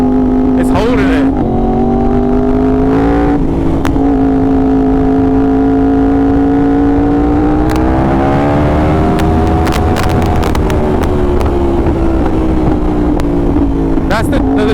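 A Yamaha R1 superbike engine revving and holding steady in gear, loud and close, with crackling exhaust pops and bangs as the throttle is released; someone talks over it.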